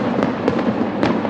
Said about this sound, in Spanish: cuando se realizan fuegos artificiales hay que situarlos